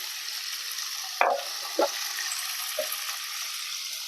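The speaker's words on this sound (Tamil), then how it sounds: "எல்லாம் ஒன்றா போட்டு வதக்கிடலாம்" Chopped tomatoes with ginger garlic paste sautéing in a pan for prawn gravy, a steady bright sizzle with three short scraping stirs, close and moderately loud.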